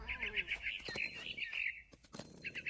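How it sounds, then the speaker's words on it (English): Bright, high chirps from a barn swallow in the video game What Remains of Edith Finch come in quick repeated bursts, pausing briefly before resuming, with faint background noise beneath. "Then I heard chirping outside my window. It was a barn swallow"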